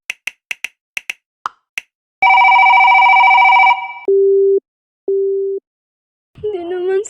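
In a radio drama, a telephone goes unanswered: a quick run of dial-pad taps leads into a long ringing tone, then two short beeps, ending in a brief burst of muffled noise.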